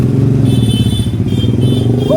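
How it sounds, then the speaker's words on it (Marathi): Heavy road traffic with motorcycles: a loud, steady drone of engines rumbling close by, continuing without a break. "आता इथं पक्की ट्रॅफिक आहे"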